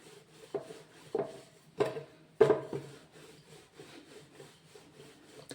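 Shankarpali dough rolled out with a rolling pin, giving soft rhythmic rubbing strokes on a board with a few louder knocking thumps, close by and without speech.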